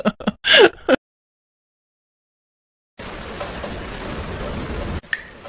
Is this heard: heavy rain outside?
yes